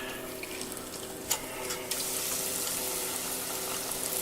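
Pieces of fried chicken cooking in hot oil give off a steady, dense sizzle that swells after a brief clatter and stays constant and close throughout.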